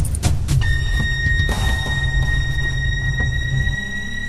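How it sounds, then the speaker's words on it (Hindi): Car engine roaring steadily as the vehicle drives fast, loud and continuous with a sustained high whine, no voices. "गाड़ी तेज चलाओ, जल्दी करो"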